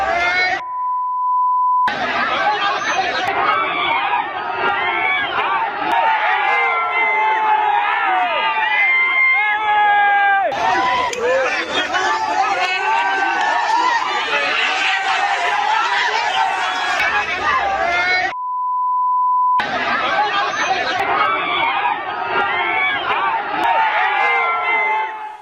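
A crowd of over 500 people at a stone-pelting clash in Kamareddy, Telangana: a loud, continuous roar of shouting, yelling and screaming voices, cut twice by short silent gaps carrying a steady beep tone.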